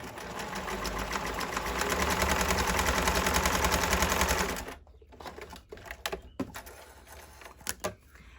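A sewing machine runs a long basting stitch, its needle hammering in a fast, even, continuous rattle for about four seconds before stopping, followed by a few scattered clicks and handling knocks nearby.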